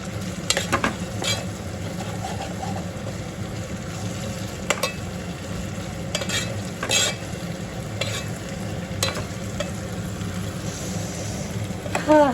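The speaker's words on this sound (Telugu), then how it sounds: "వంకాయ ఫ్రై." Eggplant (brinjal) sizzles in a frying pan with a steady close hiss, broken by intermittent scraping stirs and clinks of a utensil.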